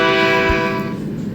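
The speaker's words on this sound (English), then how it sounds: "it honked its horn" A bright, sustained two-tone horn sounds loudly and steadily, holding its pitch before fading out near the end.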